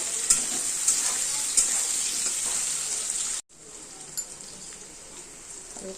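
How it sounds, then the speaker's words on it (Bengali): Potatoes and onions fry in a pan, a close, even sizzle with a few light scraping stirs, then a sudden cut to a quieter, softer frying hiss. "ভালো করে একটু ভাজা ভাজা করে নিতে হবে"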